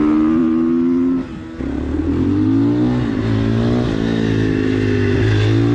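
A racing motorcycle leaves the pits, its engine droning loud and close with rising and falling revs. There is a brief dip partway through before the steady roar returns.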